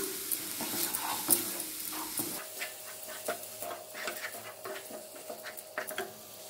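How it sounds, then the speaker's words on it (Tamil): Steady sizzling and frying of ground spice paste in a pan for egg curry, with scraping stirs and soft patter throughout, fairly quiet and close, no talking. "இப்போ நம்ம அரைச்ச இந்த விழுதை சேர்த்திடலாங்க. லைட்டாக வதக்கிக்கலாம்"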